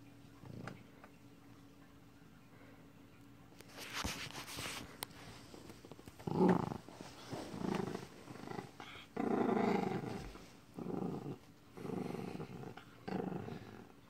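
A dog growls close by in low, rumbling bursts, several short throaty rolls separated by brief pauses.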